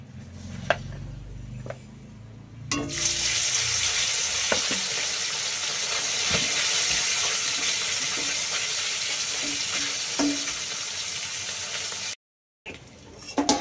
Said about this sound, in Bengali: চলো 2-4টে মাছ ভেজে দিই